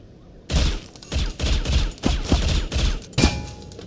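A burst of rapid gunfire in the Critical Ops video game lands a headshot, with a sharp volley of close, loud shots in an uneven rhythm about every third of a second, heard alone without talk.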